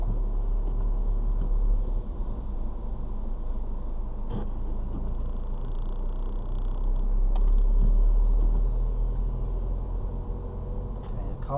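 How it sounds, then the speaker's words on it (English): A car pulls away in second gear on a snowy road, a low, steady engine rumble and road noise heard from inside the cabin with a faint rise partway through, alone without talk. "Moving off in second gear again."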